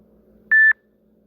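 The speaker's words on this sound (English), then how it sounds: "What is that beeping sound?" A single short electronic beep, clear and fairly loud, rising out of a quiet background and ending abruptly after a fraction of a second.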